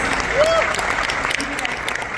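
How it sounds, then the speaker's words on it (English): An audience at a Mumbai startup pitch event applauds a pitching team, a dense continuous patter of many clapping hands, with a brief voice rising above the crowd early on. "Big round of applause for Babblebots."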